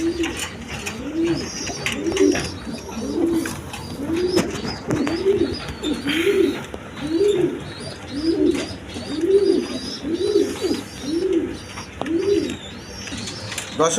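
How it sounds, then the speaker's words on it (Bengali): A pair of high-flying Giribaz pigeons coo in an even, repeating rhythm, about a dozen soft rolling coos close by, with faint chirps in the background. "এখানে এক পেয়ার হাই ফিলিং গিরিবাস কবুতর আছে"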